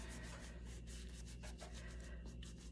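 Paint being rubbed off a vinyl reborn doll kit, quiet repeated scrubbing strokes close to the ear in a soft, uneven rhythm, alone over a low background hum.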